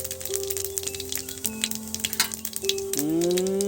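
Cumin seeds and a dried red chilli frying in hot oil, a steady crackling sizzle with bright spattering pops that swells toward the end, heard up close over faint background music.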